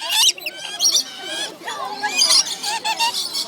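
Parrots feeding on nectar from a person's hand give repeated shrill, harsh screeches and chirps close to the ear, in dense overlapping bursts throughout.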